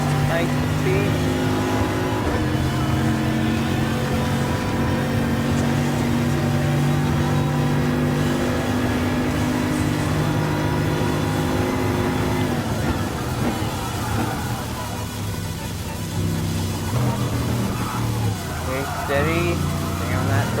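Loud, steady high-pitched race car engine held at full throttle in Gran Turismo Sport, with pitch shifts as gears change and a voice talking over it.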